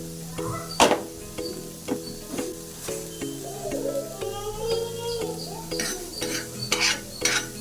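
Fenugreek and cumin seeds frying in a hot pan, a soft sizzle under repeated scraping and clinking of a spoon stirring against the metal, irregular and close.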